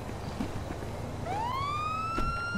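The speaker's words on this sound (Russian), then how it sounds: "Включай сирену." A police car siren in GTA 5 winds up partway through, a single clear rising wail that climbs and holds over quiet background game noise.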